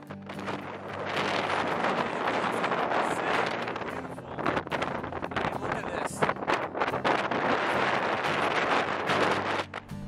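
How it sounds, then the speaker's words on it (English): Strong wind buffets the microphone near a mountain top in the Lofoten Islands, a loud continuous roaring rush with gusty surges and a brief lull midway. "we started getting closer to the top, the wind started picking up"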